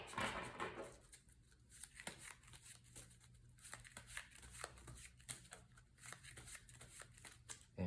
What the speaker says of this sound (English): And then we're going to shuffle up our player deck here.